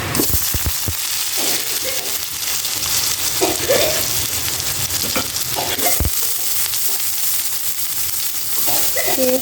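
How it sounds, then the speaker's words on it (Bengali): Spice paste hits hot oil in a wok and sizzles in a steady, loud hiss, broken by sharp clacks of a spatula scraping and stirring, with no talking over it. "তেলটা গরম হয়ে গেছে গানে মশলাটি দিয়ে দেবো"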